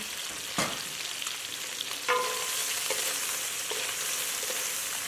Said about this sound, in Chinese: 就放入蒜末炒香。